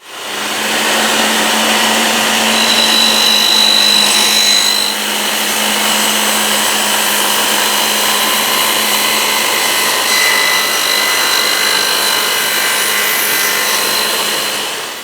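A Festool Kapex miter saw cuts through a sacrificial wooden fence insert, its motor whining loudly with a sharp cutting pitch near the start, then running on steadily as it winds down, with no talking.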